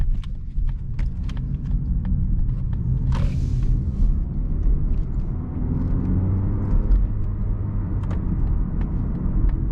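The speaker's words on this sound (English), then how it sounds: "The power is being delivered to you through a 2-liter 4-cylinder engine" A 2020 Mazda 3 GS with a 2-liter four-cylinder engine rolls along, giving a steady low engine and road rumble heard from inside the car, with faint ticking and rattles over it and no talking.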